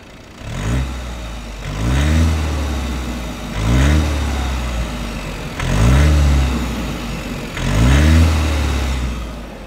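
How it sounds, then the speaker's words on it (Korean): An Audi A6 40 TDI diesel engine runs close by, idling with a low clattering rumble that swells in five regular rev-like surges. "자, 이제 아이들링 상태에서 디젤 소음을 한번 들어보시죠."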